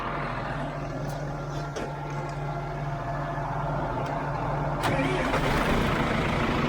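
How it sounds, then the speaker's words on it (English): A heavy diesel farm tractor engine cranks and catches during corn harvest, then settles into a steady rumbling idle that grows a little louder toward the end. "I'm going to get the this tractor running"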